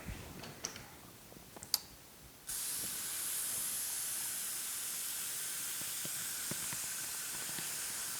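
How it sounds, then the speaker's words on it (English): Quiet ticks and clicks give way to a steady, continuous hissing water spray from a fairly powerful sprayer over kohlrabi microgreen seeds, running on evenly for several seconds, close by. "Just be careful not to spray the seeds everywhere, just because it's a little powerful."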